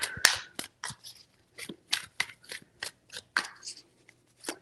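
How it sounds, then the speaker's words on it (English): Tarot cards are shuffled in a series of crisp, close riffles and taps, several short bursts separated by pauses, quiet and alone without talk. "3 shuffles."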